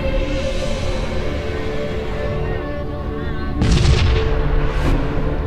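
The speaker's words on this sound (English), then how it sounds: "Here comes the enemy missiles again" Enemy missiles striking a ship in the Sunrider space combat game: a steady rumbling barrage of booming impacts, then a louder burst of blasts near the end, dense and close.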